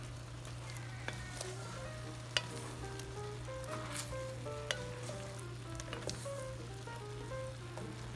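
Beef browning in a pot, a quiet, continuous sizzle crackling with scattered small pops and occasional stirring scrapes, alongside a steady low hum from the stove.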